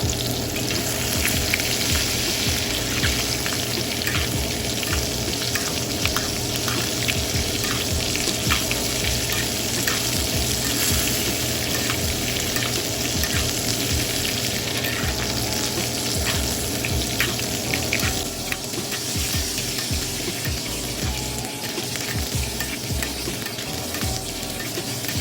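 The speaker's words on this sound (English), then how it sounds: "put a knob of butter in and baste the steak" Loud, continuous sizzle of a 45-day dry-aged ribeye basting in a knob of melted butter in a hot pan, with spoon scrapes and crackles running steadily throughout, close and unbroken.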